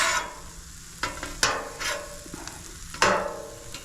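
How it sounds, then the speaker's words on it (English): A metal scraper drags leftover seasoning across a Blackstone griddle in several short rasping strokes over a faint background sizzle, with no talking. "We went ahead and scraped off the seasoning that was left behind."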